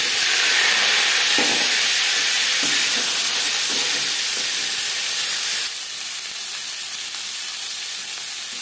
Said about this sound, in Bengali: ফুলকপি ভেজে নেব।